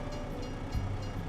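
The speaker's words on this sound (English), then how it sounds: "I think the train's a bit longer too." A train rolls past in the Farming Simulator 25 video game, a low steady rumble of wagons with a faint rising tonal note near the middle, heard alone at modest volume.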